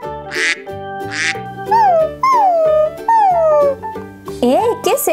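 A small dog whines and whimpers from inside its little doghouse on a cartoon farm, rising and falling high-pitched cries mixed with quacking-like toy sounds and music, fairly close and clear.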